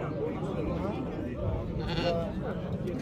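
Sheep bleat repeatedly at a busy livestock market, their calls rising over a constant murmur of crowd chatter and nearby talking voices.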